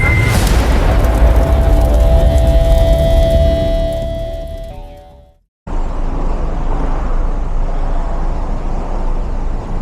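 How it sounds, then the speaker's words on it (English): Loud road traffic on a busy street in Kingston, Jamaica, rumbling with engine noise and passing vehicles close by, with a sudden brief dropout into near silence before the dense roar resumes. "Traffic for days."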